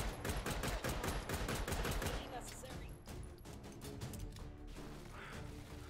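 A CZ-75 Shadow pistol fires in the virtual reality game Hot Dogs, Horseshoes and Hand Grenades, giving a rapid series of sharp shots. The shots are dense at first and then come more sparsely, with quieter handling noise mixed in.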